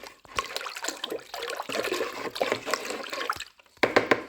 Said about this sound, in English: So I'm just going to carry on washing this through, get all the good stuff out